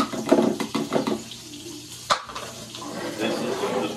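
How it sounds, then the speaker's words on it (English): Plain tap water poured into a wide-mouth quart glass jar, a short splashing pour with a brief sharp clink midway, heard close and moderately loud. "this is just plain old water."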